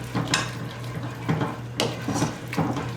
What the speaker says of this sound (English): And I'm just going to mix my beans in here with all this goodness.